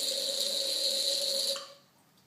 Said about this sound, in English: I'm just going to pour a little shot in here.